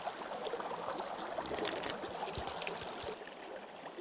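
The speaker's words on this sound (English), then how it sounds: "there's so much pressure underground that it's bubbling out of the ground" Spring water bubbling up out of the ground under underground pressure in southeastern Minnesota's driftless region, heard as a steady close trickling, gurgling flow with no voices.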